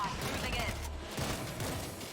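Rapid bursts of gunfire in the zombie shooter World War Z, loud and continuous across the whole stretch, with a game voice or player talk faintly mixed in.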